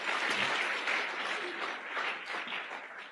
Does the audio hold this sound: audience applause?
yes